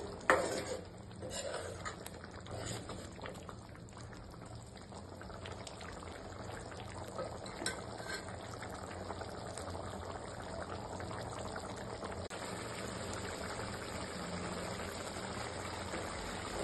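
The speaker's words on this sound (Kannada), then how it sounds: "ಇವಾಗ ಚೆನ್ನಾಗಿ ಬಾಯ್ಲ್ ಆಗ್ತಾ ಇದೆ." Chickpea gravy for chana masala, with coriander leaves added, boiling in a pot: a quiet, steady bubbling simmer that carries on evenly throughout, with no talking.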